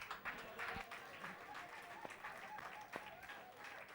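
A church congregation claps and applauds during a service, a fairly faint, continuous patter of many hands with scattered sharper claps, talk mixed in.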